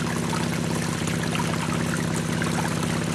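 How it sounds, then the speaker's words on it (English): Water runs steadily over a Gold Hog Razorback sluice mat, a continuous close rushing and trickling flow with no break. "You can see the water flow we've got."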